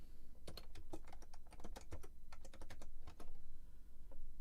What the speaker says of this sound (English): So we'll just type in here.